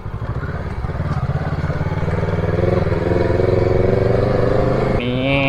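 A vehicle drives along a narrow mountain road in Tak province through a tunnel of overhanging branches, its engine a steady close drone that builds slightly, with a brief brushing change near the end.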